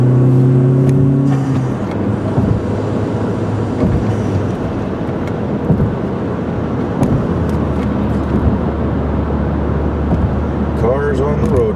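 A car accelerates on a road around a bend near a hill, its engine rising in a loud, sustained drone with tire and road noise, while other traffic is heard and a voice talks over it.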